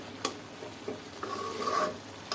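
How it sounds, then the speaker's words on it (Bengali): Chutney stirred in a frying pan gives soft, faint sizzling with a few light scraping clicks of the spoon against the pan. "আর 5 মিনিট নাড়াচাড়া করে রান্না করে নিলেই চাটনি খাওয়ার জন্য রেডি।"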